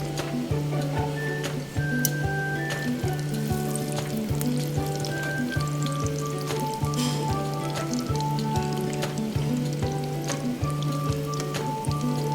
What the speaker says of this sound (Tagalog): Habang tayo napiprito ng ating chicken